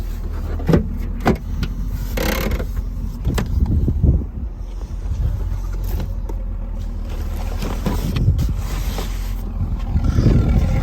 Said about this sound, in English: Hear the exhaust idling away.